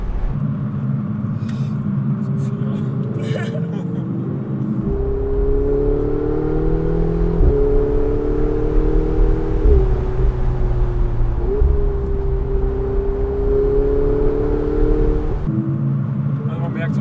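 A Ferrari 488 Spider engine rumbles while driving, its pitch climbing in several loud rising pulls separated by brief shift drops, then settling back to a lower drone near the end.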